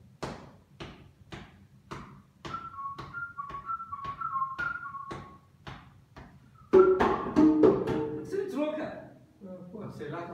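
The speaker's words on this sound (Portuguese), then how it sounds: "Vamos começar só o assobio, então, tá?" Person whistling at a capoeira session, a short run of tonal whistled notes against a series of sharp rhythmic taps, with a louder passage of percussion near the end.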